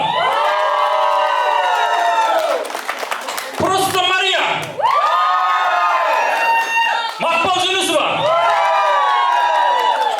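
A lively concert crowd in Almaty cheers and shouts throughout, with whoops rising in bursts while a loud voice calls out over the noise; clapping is hard to pick out.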